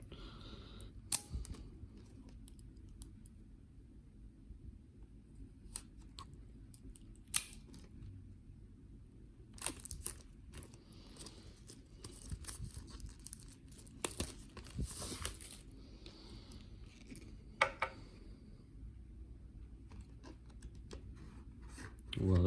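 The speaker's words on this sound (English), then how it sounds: "Here, I'll go ahead and unbox this one." Crinkling plastic and tearing packaging as a 7-inch vinyl record is unboxed, with scattered sharp rustles and snaps over a low steady background hum, close by and moderately quiet.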